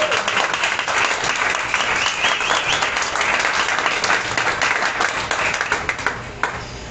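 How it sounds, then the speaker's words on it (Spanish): A church congregation breaks into warm, steady applause during a sermon, many hands clapping together for several seconds before the sound thins and trails off toward the end. "Dale un aplauso a Dios."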